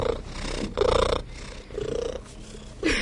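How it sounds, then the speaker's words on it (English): A cat's soliciting purr mixed with a high-pitched cry-like element, close and rhythmic, pulsing in several breathing cycles over a few seconds with no talking. "this is the purr that cats use when they're trying to get you to do something"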